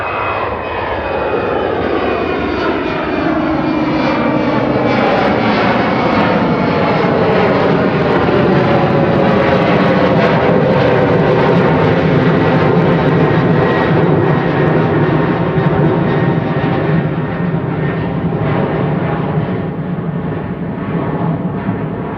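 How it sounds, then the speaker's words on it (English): A KLM Embraer E190 airliner roars through its takeoff run at Manchester Airport, a loud, sustained engine rumble and whine with shifting tones as it passes, heard throughout with no talk. "KLM 1038 heading off to Amsterdam now. It's an E190"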